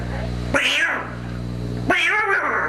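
A person imitates a cat, giving two drawn-out meows separated by a short pause, close and fairly clear.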